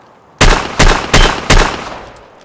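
Four loud, sharp revolver shots from a Chiappa Rhino firing .357 Magnum hollow-point rounds in Escape From Tarkov, evenly spaced about a third of a second apart, each with a short decaying tail, no talk.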